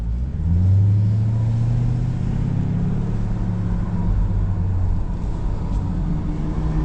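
A 2026 Dodge Durango rolls up to the start line at the Road America track, its engine giving a deep, steady close rumble that swells slightly early and then holds at a low idle.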